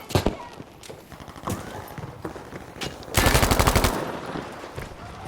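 A Thompson M1928A1 submachine gun fires in the video game Battlefield V, with scattered single shots and short bursts, then one loud rapid automatic burst lasting under a second, close and prominent over ambient battle noise.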